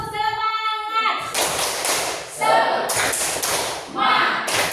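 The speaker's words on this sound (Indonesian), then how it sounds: "Siap, tepuk semangat." Classroom of students doing a rhythmic spirit clap in a school lesson, a run of sharp, loud claps and thuds in bursts, with a teacher's voice briefly heard before the clapping.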